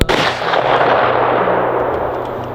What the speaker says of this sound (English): 200 yards with a pistol offhand